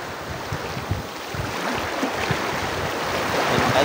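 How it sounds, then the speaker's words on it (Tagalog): Strong waves breaking along a shoreline, a steady broadband wash with low rumbling surges, wind noise buffeting the microphone throughout. "Grabe, naglakas na yung alon."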